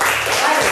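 Children in a classroom applaud together, a steady, dense wash of clapping filling the whole short moment, with a brief spoken word from a teacher over it.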